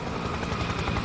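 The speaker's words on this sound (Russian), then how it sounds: "Тихо, летит вертушка." A helicopter passes overhead in the video game Spec Ops: The Line, its steady rotor thrum and engine drone holding loud and constant with no talk over it.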